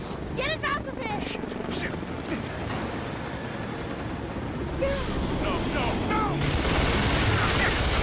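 Video game gunfire and a helicopter in Rise of the Tomb Raider. A constant heavy rotor drone sits under scattered shots, with voices mixed in throughout.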